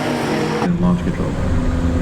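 A tuned Chevrolet Camaro ZL1 with an aftermarket downpipe launches on launch control at a drag track, its engine suddenly surging into a loud, close, broadband roar that holds steady to the end.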